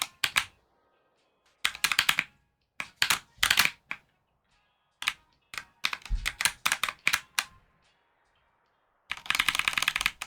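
Fingers clack on keyboard keycaps in quick bursts of rapid typing separated by pauses, close and crisp, with no voices.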